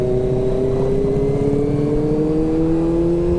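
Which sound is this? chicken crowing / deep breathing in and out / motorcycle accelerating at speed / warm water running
motorcycle accelerating at speed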